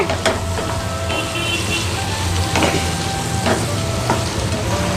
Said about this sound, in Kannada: ಇದನ್ನು ಈಗ ಸ್ವಲ್ಪ ಫ್ರೈ ಮಾಡಿಕೊಳ್ಳುವ ಗ್ಯಾಸನ್ನು ನಾನು ಮೀಡಿಯಂ ಫ್ಲೇಮಲ್ಲಿ ಇಟ್ಕೊಂಡು ಫ್ರೈ ಮಾಡ್ಕೊಳ್ತಾ ಇದ್ದೇನೆ